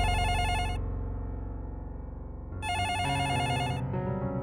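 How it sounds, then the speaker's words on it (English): An electronic telephone ringtone plays in two bursts of repeating warbling tones with a short gap between them, clear and fairly loud with no talking. "That is, until they received a phone call."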